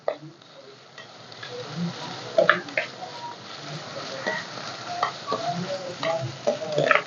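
Black pepper and cumin sautéed in a pan for a crab soup, steady sizzle broken by repeated scraping and stirring strokes of a spatula, moderately close, no talking.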